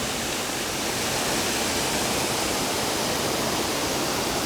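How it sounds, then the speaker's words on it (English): Water rushes steadily through the Fairy Glen stream, a constant broadband hiss and roar with no change in level and no voices. "you can see the water flowing all the way through"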